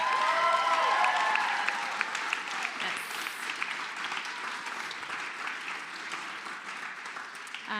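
An audience applauds storytellers at a Pridefest storytelling night in a taphouse, with a dense burst of clapping that fades gradually toward the end, heard without speech.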